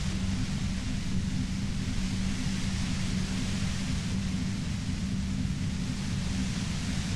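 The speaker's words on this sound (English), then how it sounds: "You hear through the white noise. It's especially bad suddenly." Steady, dense white-noise static from the video game Disco Elysium, with a faint low rumble underneath. It stays constant and fairly loud throughout, with no speech.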